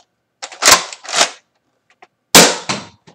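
A toy dart blaster dry-fired with no dart loaded gives a few loud, sharp plastic snaps and clacks close by, two quick pairs separated by a short pause.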